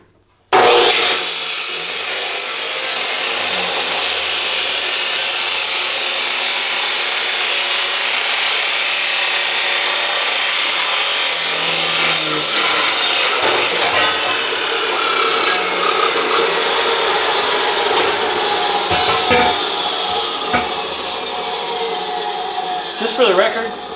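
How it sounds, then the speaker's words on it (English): Chop saw cutting through stainless steel car exhaust headers, a loud, sustained high-pitched abrasive grinding and screech that starts abruptly and runs almost continuously, very close, easing slightly toward the end. "let's chop saw a really nice set of stainless steel headers"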